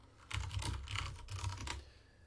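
Quick run of keystrokes on a computer keyboard while entering a Linux password-expiry command, a steady clatter of a dozen or more taps in two bursts with a brief pause between, close and moderately quiet.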